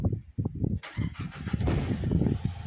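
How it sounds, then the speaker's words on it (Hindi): A Renault Duster 110 with a faulty ECU cranks with a rhythmic chugging starter for under a second, then the engine catches and settles into a loud, steady idle close by. "अभी हम करते हैं इसे स्टार्ट"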